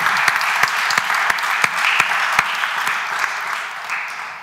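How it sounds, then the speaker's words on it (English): An audience at the Cambridge Union gives author Tessa Hadley a warm round of applause, sustained dense clapping that holds steady and slowly tapers near the end. "Can we give Tessa a very warm round of applause?"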